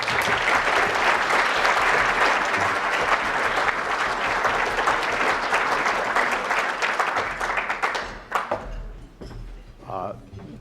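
Audience applause at the 2018 Toner Prize award ceremony, sustained clapping from a full room that runs for several seconds, then tapers off into scattered claps and a voice near the end.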